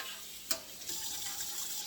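A kitchen sink tap runs while dishes are washed by hand, a steady soft stream of water with a brief clatter of dishware early on, quiet and close, no voices.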